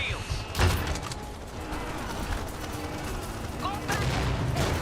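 Gunfire from a team shooter video game crackles in quick bursts at the start and keeps popping through the match, with mechanical game noises and a player talking over it.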